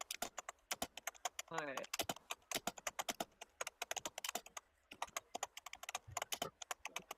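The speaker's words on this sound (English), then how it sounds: "There's some angry typing going on." Someone types forcefully on a computer keyboard, producing rapid irregular clicks in bursts. A voice briefly speaks over them.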